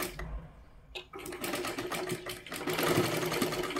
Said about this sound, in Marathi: हे पहा अशा पद्धतीने आणि पूर्ण आपल्याला शिलाई करून घ्यायची आहे